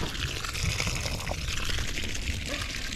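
Water runs from a newly plumbed outdoor wall faucet at a house, a steady broadband splashing and pouring flow close by that continues without a break.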